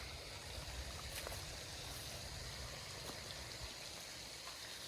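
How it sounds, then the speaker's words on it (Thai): Water released into a fish pond flows in a steady, quiet rushing trickle, constant and even throughout the five seconds, with no voices. "วันนี้เปิดน้ำให้ปลาเล่น"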